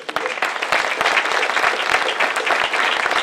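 An audience at a college ribbon cutting ceremony claps loudly and steadily, dense applause filling the room while a speaker's brief words are heard at the start.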